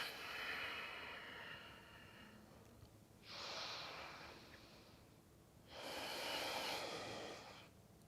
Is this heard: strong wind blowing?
no